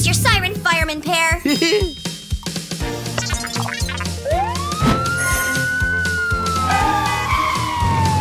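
Cartoon fire engine siren wailing and rising over playful music, with children's voices talking and singing around it in an animated kids' story.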